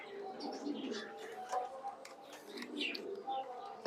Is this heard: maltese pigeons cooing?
yes